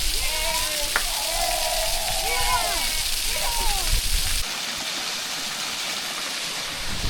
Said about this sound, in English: this is the third waterfall